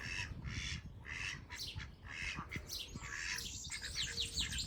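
Partridge calling outdoors near a rooster, repeated harsh raspy squawks in a rough rhythm, moderately close against faint background noise.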